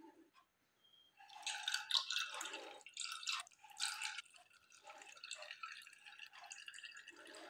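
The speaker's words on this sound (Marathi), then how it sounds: "मिक्सरमध्ये वाटून झाल्यानंतर हा रस गाळून घ्या" Freshly blended juice, ground with a little water for a sweet noodle dish, drips through a strainer in a quick, irregular patter of small wet drops, close and fairly quiet, with no talking.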